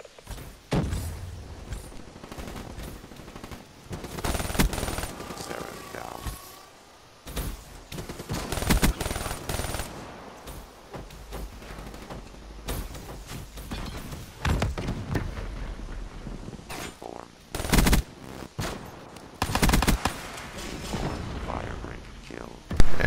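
Rapid bursts of gunfire from the Dredge, a semi-automatic LMG in Black Ops 3, crackle in sharp repeated volleys with explosions and other battle noise mixed in, while a voice talks over much of the action.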